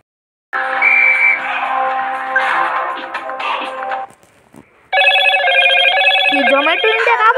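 Phone ringing with an incoming call from Zomato: a loud, close ringtone sounds for several seconds, pauses briefly, then a second bright, tonal ringing pattern starts and continues to the end.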